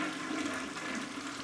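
A toilet flushes with a steady rushing gush of water, fairly faint and heard alone.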